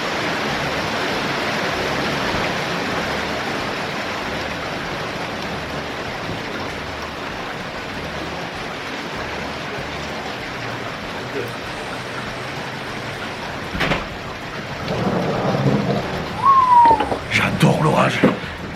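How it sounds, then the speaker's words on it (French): Steady rain from a thunderstorm, a dense, even hiss throughout, with a few louder bursts and rustles toward the end and no clear thunder. "j'aime bien l'orage, j'aime bien le tonnerre"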